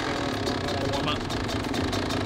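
A brand-new 2021 Kawasaki KX85 two-stroke dirt bike idles close by as it warms up, giving a steady buzzing putter under people talking.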